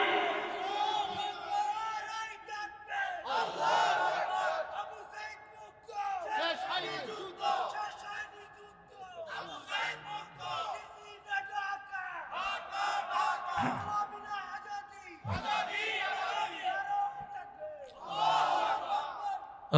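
A crowd at an Islamic religious sermon chants in response to a takbir call, with loud surges of massed voices rising and falling in repeated waves over about twenty seconds.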